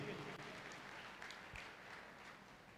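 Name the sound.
audience applause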